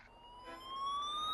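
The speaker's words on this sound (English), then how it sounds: "We drove around calling his name and sounding our siren." A cartoon rescue vehicle from a fire-pumper crew sounds its siren, a steady rising electronic wail that grows gradually louder over the short stretch and carries no speech.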